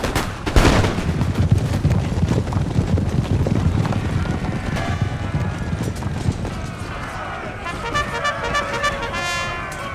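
Cavalry hooves pound in a charge during an Empire: Total War multiplayer battle, mixed with scattered musket fire and battle noise, loud and continuous throughout.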